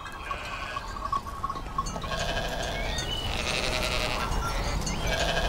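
Sheep bleat repeatedly in a pastoral setting, several overlapping calls rising louder and more continuous in the second half, fairly close and with no talk over them.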